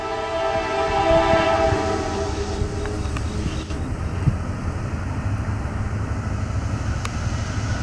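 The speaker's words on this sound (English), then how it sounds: "Alright guys, Norfolk Southern northbound is coming." Norfolk Southern northbound freight train sounding its horn in Marion, Ohio, a loud sustained multi-tone blast that cuts off after a couple of seconds, followed by the steady rumble of the approaching train.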